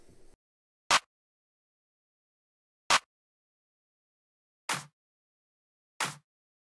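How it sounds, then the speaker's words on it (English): Four separate layered clap hits from a music production, each a sharp broadband crack with a short tail, spaced about two seconds apart with silence between, the last two carrying a slightly fuller low body. "For the claps, I used two main samples that sound like this."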